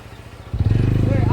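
A motorcycle at a busy Saturday puja spot bursts into a loud, close engine rumble about halfway through and holds a throbbing, steady drone as people talk nearby.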